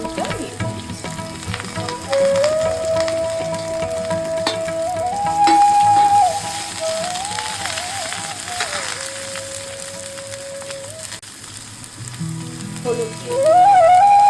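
Cut eggplant, potato and flat beans fry in hot oil for a drumstick flower chorchori, a steady crackling sizzle throughout with a thin wavering melodic tone running over it and a louder burst near the end.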